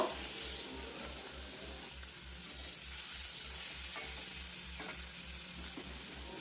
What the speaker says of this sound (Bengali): মাছটা কত সুন্দর ভাজা হচ্ছে